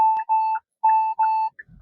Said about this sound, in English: I'm getting in the left turn lane and it's beeping at me